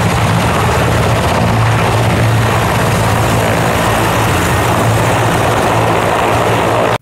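An air ambulance helicopter in the Perm region of Russia, a steady, loud rotor and engine drone with low thumping that holds throughout, with no voices.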